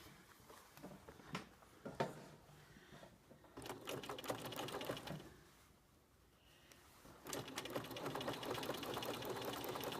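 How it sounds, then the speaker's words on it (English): Sewing machine top stitching through all the layers of a quilt, running in bursts of steady rapid stitching with short pauses between, fairly close and alone. "Now we're top stitching through all of the layers now."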